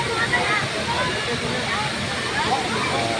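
Water from Stubo Falls rushes in a steady, continuous roar with a picnic going on nearby, while voices talk over it.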